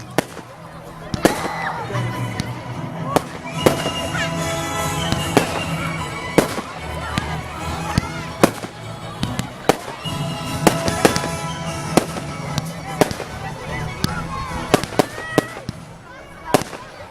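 Bonfire Night fireworks crack and boom outdoors in a dense, continuous barrage of sharp bursts and crackling, loud and steady throughout, with people talking underneath.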